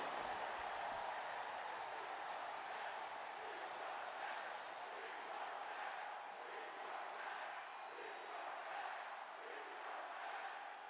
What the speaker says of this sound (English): The crowd is not happy.